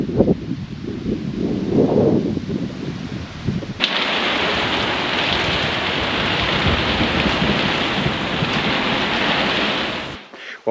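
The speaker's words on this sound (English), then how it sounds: "We've got a big storm coming in. I think it's going to kick off really shortly." Heavy rain from an approaching storm starts suddenly a few seconds in and pours as a loud, steady hiss, preceded by low rumbling and rustling, then cuts off abruptly near the end.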